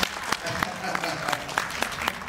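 An audience at a national health assembly event in Thailand claps, with crisp individual hand claps rising out of steady applause while a voice talks over it.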